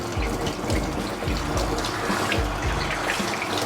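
A handheld shower sprays a steady, softened stream of water during a full dog bath, a close, continuous splashing rush with faint rhythmic pulses underneath.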